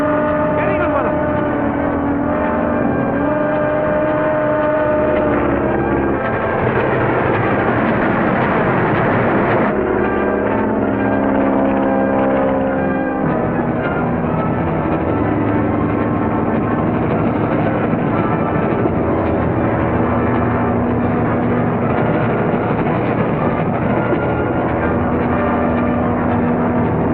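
Continuous droning roar of an airplane engine in flight from a 1941 serial, steady and loud with shifting pitch as it climbs, under music and occasional voices.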